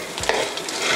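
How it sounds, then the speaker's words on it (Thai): Cornflakes being stirred through sticky syrup in a pan for a Thai krong krang cornflake snack, a steady close scraping and crackling sizzle with one stronger stroke early on, with no talking. "ตอนนี้ก็คนนะครับให้ตัวคอนเฟกต์เนี่ยมันโดนน้ำเชื่อมนะครับ"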